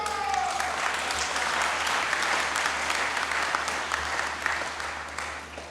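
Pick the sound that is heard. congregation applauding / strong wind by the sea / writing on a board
congregation applauding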